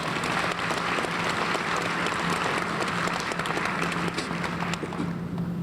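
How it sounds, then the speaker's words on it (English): A packed hall at an awards convocation gives a round of applause, loud continuous clapping from a large crowd that stays full and even across several seconds without speech. "So let's give him another round of applause"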